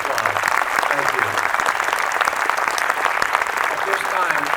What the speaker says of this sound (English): please give all of these members a hearty round of applause